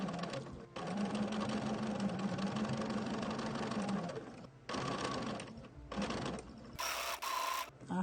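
A sewing machine runs slowly over a quilt with a steady mechanical whir, stopping and starting in several stretches of different lengths, close and fairly loud.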